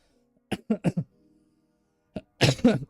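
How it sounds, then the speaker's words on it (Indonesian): Several sharp coughs in a quick burst, a pause, then a heavier double cough close to the listener, with no talking. "batuk"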